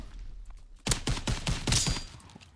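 Rapid gunfire in Call of Duty WW2, a dense burst of close, loud shots cracking in quick succession after a brief quieter lead-in, with no voices over it.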